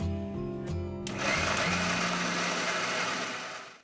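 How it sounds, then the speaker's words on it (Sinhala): An electric blender whirs up and runs at a steady high-pitched churn as it blends masala paste, loud and continuous after a brief start, then easing slightly at the end. "ඉතින් ඔන්න මම දැන් බ්ලෙන්ඩ් කරගන්නවා."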